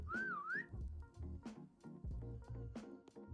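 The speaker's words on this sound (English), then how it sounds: "Whistle." A player character in the video game Surroundead whistles a short rising and falling tune, followed by quieter in-game sounds and brief bursts of activity.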